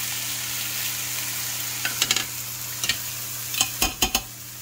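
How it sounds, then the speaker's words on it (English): Morel mushrooms stir-fry in a pan, giving a steady sizzle with several sharp clicks and scrapes of stirring toward the end, close and moderately loud with no talking. "I guess we could just quickly stir fry, and then it'll be ready."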